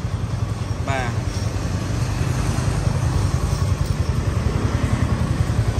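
A 2021 Yamaha R15 V3 motorcycle engine idles with a steady, fast-pulsing low throb throughout, close by, with a brief higher-pitched rising whine near the start.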